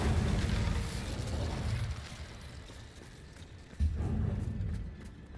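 The Incendio fire spell being cast in the game Hogwarts Legacy: a dense, roaring burst of flame with rumbling low-end that fades and then flares again in a second loud whoosh, with no talking over it.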